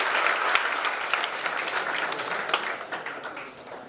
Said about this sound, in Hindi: तो ताली